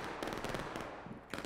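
A volley of Civil War muskets in War of Rights cracks out as a ragged burst of overlapping shots, then trailing reports and another sharp cluster, fairly distant and echoing over open ground.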